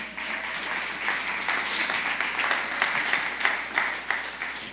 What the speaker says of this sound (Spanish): Aplauden al Señor.